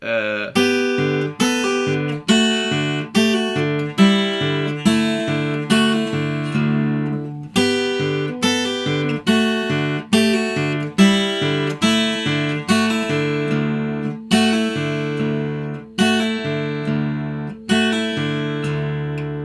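The guitar riff from a song played slowly, steady plucked notes ringing into one another, evenly spaced and clear for the whole stretch.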